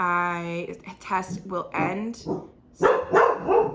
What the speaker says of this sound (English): Sorry, excuse my dog.